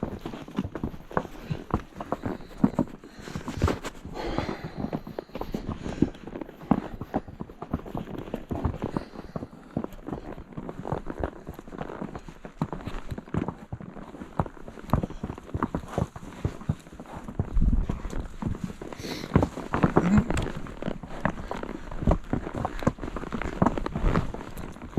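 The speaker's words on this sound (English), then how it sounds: "I'm riding Luna, a 4-year-old foxtrotter mare." A 4-year-old foxtrotter mare on a trail ride gives steady, rhythmic hoofbeats, close and continuous, with faint crunching underfoot throughout.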